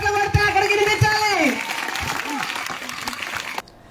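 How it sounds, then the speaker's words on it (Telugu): Crowd applauding at a political gathering in Guntur, a dense burst of clapping rising out of a voice and running for about two seconds before cutting off abruptly. "సంతోషంగా మనం అందరం ఒకసారి ఇక్కడ చప్పట్లు కొడితే అక్కడికి వినిపించాలి."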